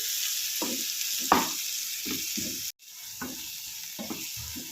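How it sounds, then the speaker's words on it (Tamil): Potato mixture with sambar powder sautéing in a pan, a steady close sizzle and fry with repeated soft stirring scrapes, briefly cut off midway before resuming, no talking. "இப்போ இது எல்லாத்தையும் சேர்த்து நல்லா வதக்கிக்கலாம்"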